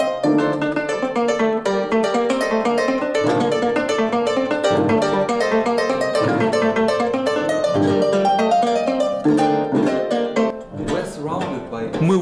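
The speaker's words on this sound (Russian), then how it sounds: "Хоропо звучит вот так." Colombian joropo, a lively traditional dance music, played on harp: rapid plucked patterns and bright ringing notes in a fast, driving rhythm, loud and continuous throughout.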